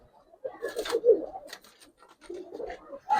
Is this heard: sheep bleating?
no